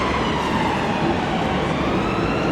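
A continuous, steady wash of emergency siren sound, likely an ambulance, heard from a live camp stream. It stays loud and unbroken throughout, with no voices over it.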